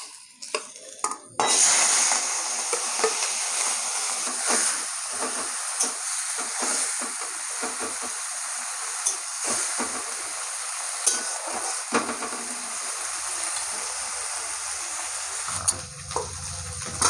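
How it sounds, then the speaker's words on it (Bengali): Small shrimp fry in hot oil in a wok, a loud bright sizzle that bursts in after a quiet start and holds steady, with occasional stirring clatter and pops before it cuts off near the end. "দিয়ে দেবো তেল কড়াইয়ে। মাছগুলো ভেজে নেবো।"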